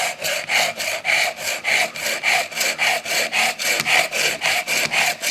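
Bavarian Edge carbide knife sharpener scraping a blade through its carbide slots in steady, rapid back-and-forth strokes, about eleven harsh rasping passes, loud and close with no talk.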